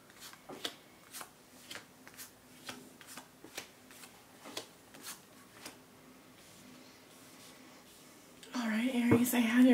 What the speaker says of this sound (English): They're saying it's okay to cut the cards.